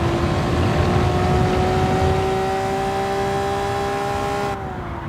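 A Honda NSX race car in Gran Turismo 7 drones steadily at high revs on a time trial lap at Tsukuba Circuit, a loud sustained engine tone that eases slightly before cutting off near the end.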